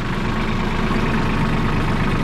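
A tractor engine idles nearby during silage chopping, giving off a steady, low mechanical drone with even loudness and no speech over it.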